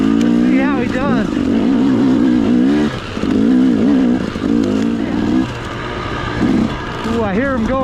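A Honda CRF450R dirt bike climbs a hill, its engine loud and close with repeated wavering revs and throttle swells, rising and dipping as it works upward.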